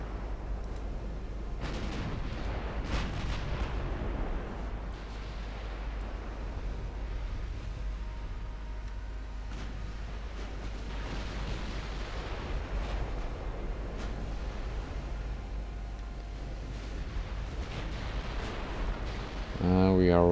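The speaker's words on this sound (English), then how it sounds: "let's spend the last of our HE shells killing the light cruisers" Naval guns fire HE shells in the warship game Ultimate Admiral Dreadnoughts, heavy rumbling booms rolling over a constant low battle drone, with someone talking over the gunfire throughout.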